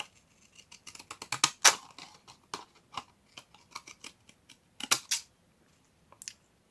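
Scissors snip through paper for a botanical-themed paper craft, a close series of crisp, irregular cuts with brief pauses between them and no talking.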